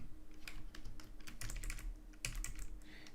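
Rapid, steady typing on a computer keyboard during a coding session, close and fairly quiet, with dense clusters of key clicks and no talking.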